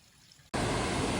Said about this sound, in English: Holy cow, this is a legit waterfall.